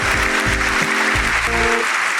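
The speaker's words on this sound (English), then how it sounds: "And the crowd goes wild." Crowd applause sound effect opening a podcast episode, a steady wash of clapping and cheering that runs loud and continuous throughout, with a few tonal musical stabs mixed in beneath it.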